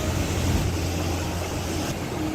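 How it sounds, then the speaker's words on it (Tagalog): Strong ocean surf at Naputad Beach in Mapanas, Northern Samar, roars as a steady, dense wash of breaking waves with no pauses, fairly loud and alone. "napakalakas ng alon"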